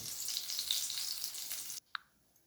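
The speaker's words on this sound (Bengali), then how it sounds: "এইভাবে আমি বেগুনগুলো ভেজে তুলে রাখবো, তারপরে আমি মাছগুলো ভাজবো।" Eggplant pieces sizzle and crackle in hot oil for most of the moment, then the frying cuts off abruptly, followed by a short clink.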